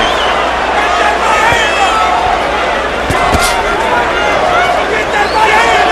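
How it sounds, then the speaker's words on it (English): Dense arena crowd at a boxing match roaring and cheering for hometown favorite Cory Spinks, a loud continuous wall of voices with a few thumps and a commentator talking underneath. "Crowd exhorting Their hometown favorite, Cory Spinks."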